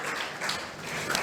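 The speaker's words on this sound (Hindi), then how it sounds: "जोरदार तालियां बजाइए इनके लिए," A crowd applauding at a coaching class's celebration for NEET-2020 toppers, a steady wash of clapping hands, moderately loud and continuous throughout.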